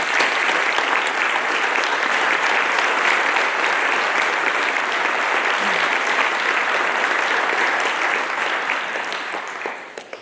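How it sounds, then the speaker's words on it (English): A crowd at a police change of command ceremony for the Harwich Police Department gives a dense, sustained round of applause that holds steady before tapering off at the end. "give each member of the Harwich Police Department and every member of law enforcement in here, whether in uniform or not, a round of applause"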